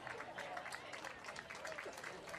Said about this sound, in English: she gets a round of applause from her former home fans here in Western New York